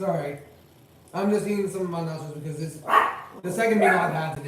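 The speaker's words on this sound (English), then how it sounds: "Sorry about the barking in the back. That is my dog." A pet dog barks in the background of a home while someone talks over it, the barks coming in short bursts beneath his steady speech.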